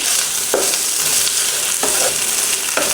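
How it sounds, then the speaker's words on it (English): Handmade flour tortillas sizzle on a hot comal, giving a loud, steady frying hiss broken by a few soft scrapes or flips at intervals, with no voices. "You can throw down some handmade flour tortillas."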